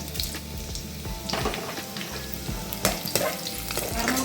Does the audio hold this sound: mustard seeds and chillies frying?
yes